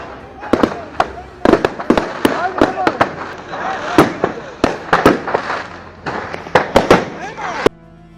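Fireworks bursting in a rapid irregular series of sharp loud cracks and pops, some spaced, some in quick clusters, over a constant hiss and rumble, caught on a CCTV camera.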